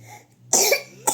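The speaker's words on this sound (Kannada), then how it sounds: "ಕೆಮ್ಮಾಗೈತಾ ಕೆಮ್ಮಾಗೈತಾ ಕೆಮ್ಮು" A small child coughs twice up close: one strong cough, then a shorter one a moment later, in a quiet room.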